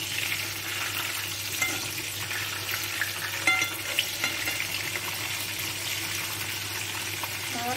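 Eggplant frying in a pan of oil, a steady bright sizzle with faint crackles and occasional soft stirring clatter, close and continuous throughout.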